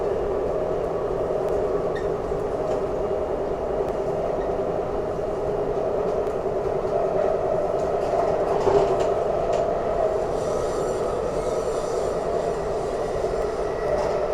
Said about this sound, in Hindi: बाहर ट्रेन क्रॉस करती हुई भारतीय रेल।